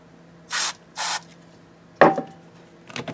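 Two short hissing bursts of cleaner spray into the 5-way switch of a 1988 Japanese-made Fender Stratocaster, each about a fifth of a second, followed by scraping and handling clicks close by.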